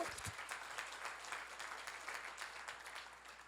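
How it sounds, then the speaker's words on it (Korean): Audience applause at a Korean church seminar on Genesis, a steady wash of clapping held at a moderate, even level through the whole stretch, with no voices over it. "박수를 하세요"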